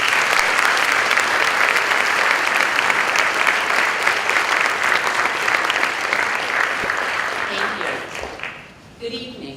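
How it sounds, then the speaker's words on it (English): Sustained, loud audience applause fills a school auditorium during an NHS and NTHS induction ceremony, steady for most of the clip before tapering off near the end. "could you join me in a round of applause"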